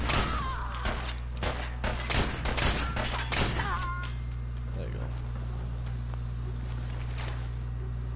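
Rapid gunfire in the video game Fallout 4, a dense burst of sharp shots over the first four seconds, loud and close, followed by a low steady hum with someone talking.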